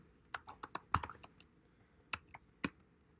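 Computer keyboard typing, a quiet, irregular run of sharp key clicks with short pauses, close by and with no talk.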